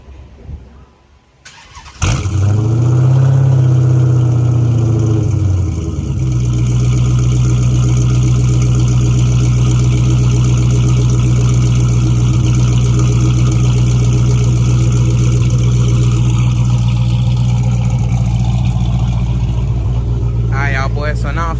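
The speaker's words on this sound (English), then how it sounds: "I'm gonna give y'all boys a little cold start real quick of the charge" A Dodge Charger cold-starts with a brief cranking burst, then settles into a loud, steady, close idle that drones on without a break.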